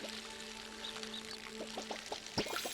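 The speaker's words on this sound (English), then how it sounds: "Water this stuff up" Watering can pouring over garden crops in the video game Palia, a soft continuous trickling splash with gentle ambient game tones and a brief chime, fairly quiet.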